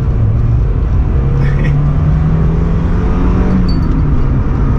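Mazda MX-5 NA roadster being driven on a wet road, a loud steady engine drone with shifting tones as it pulls, mixed with tyre hiss, heard from inside the car.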